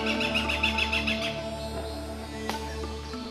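A goshawk gives a rapid series of repeated sharp chattering calls, fairly close, then falls quiet against a low steady background hum, with a brief click near the end.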